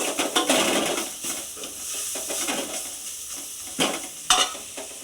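Puffed rice being stirred with chilli powder and green chilli for uggani, a steady scraping, rustling mix close up with a few sharper clinks of the spoon against the pan, no talking.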